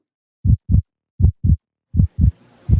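A heartbeat thumps loudly and close in deep, muffled double beats, three lub-dub pairs in an even rhythm with nothing else around them.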